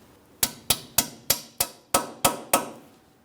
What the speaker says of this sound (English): You can lightly tap on this with a hammer if necessary.